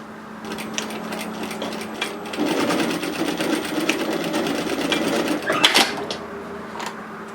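A home sewing machine stitching a wide fabric headband, a steady whirring run of rapid needle clatter, close and loud, ending with a clunk and a few quieter clicks.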